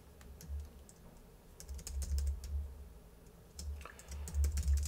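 Rapid typing on a computer keyboard while entering a Power BI formula, a close run of quick key clicks in short bursts with brief pauses between.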